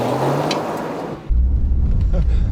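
Toyota GR Yaris four-wheel drive car on a driving test over a bumpy course, engine noise loud and close, with a sharp shift at midpoint into heavy low rumble and road or wind roar.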